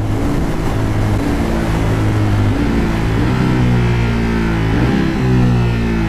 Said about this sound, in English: It sounds so good on the quick shifter blipper.